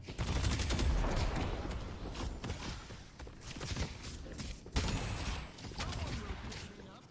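Sustained gunfire from a first-person shooter match, dense bursts of rapid shots with scattered single cracks and footsteps, loud and continuous through the whole stretch.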